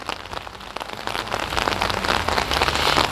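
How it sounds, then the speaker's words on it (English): Heavy rain in late afternoon drumming on surfaces nearby, a loud continuous patter of dense drops that swells slightly as it goes on, with no voices. "then just in the late afternoon it really started raining"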